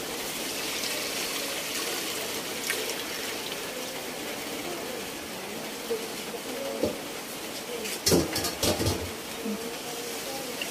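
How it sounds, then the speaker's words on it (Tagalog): Water is poured into a pot of chicken arroz caldo, a steady hissing trickle that runs throughout, with a few clinks of metal cookware near the end. "Lalagyan na rin po natin ng tubig."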